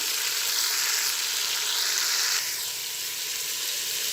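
Mutton and onion frying in a pot with ginger and garlic, giving a steady loud sizzle with brief stirring shifts, with no talking.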